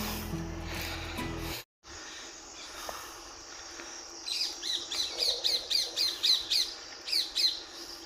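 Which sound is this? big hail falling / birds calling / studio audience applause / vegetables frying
birds calling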